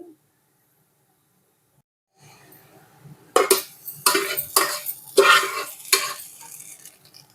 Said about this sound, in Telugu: స్టవ్ ఆఫ్ చేసుకొని ఈ పోపుని పప్పులో వేసుకొని కలుపుకోవాలి